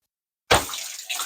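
Water splashes and sprays inside a running dishwasher washing farm fresh eggs, bursting in loudly after half a second of silence and then churning steadily with a second surge near the end.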